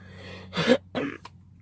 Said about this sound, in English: I'm sorry, y'all, I'm still sick. I still got a cough.